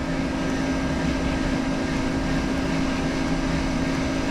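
Electric motor run by a Danfoss VLT variable frequency drive set to 20 Hz, giving a steady, even whirring hum with a constant tonal drone and no pauses, fairly loud and close throughout.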